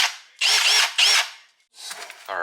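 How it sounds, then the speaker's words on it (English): A Milwaukee drill fitted with a 7/16 bit, used while fitting a driveshaft safety loop on a Ford truck, whirs loudly in two close bursts, then gives way to quieter mechanical rattling and a short tonal whine at the end. "got my 7/16 drill bit, got my Milwaukee impact or Milwaukee drill."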